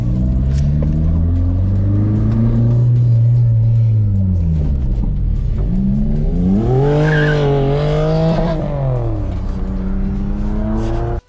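Toyota MR2 Spyder driven hard, its engine roaring loud and close with rising and falling revs, and tires squealing through the later corners, no talk.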